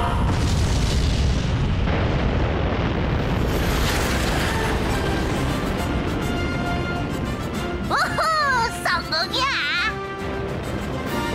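A cartoon spaceship blasts off with a loud, dense, continuous roar that fills the scene for several seconds, then eases as brief voices break in near the end.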